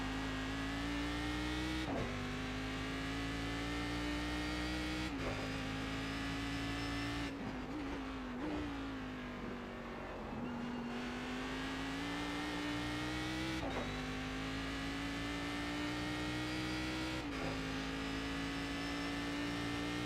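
A race car engine in the iRacing simulator at Bathurst drones steadily under load, with gear changes and braking dips marked by brief pitch drops before it climbs again. No voice is heard.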